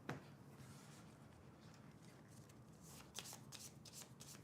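Playing cards shuffled for the Sniper Elite board game, a soft, quiet riffle and rub of card stock with a few sharper flicks and snaps toward the end.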